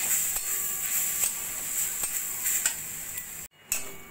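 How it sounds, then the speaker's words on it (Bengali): Grated coconut stirred and dry-roasted over low flame in a wok, heard as a low, faint scratchy hiss with light periodic scraping taps of a spatula and a brief dropout near the end. "এইভাবে আস্তে আস্তে নাড়া দিয়ে দিয়ে শুকনো করে নেব।"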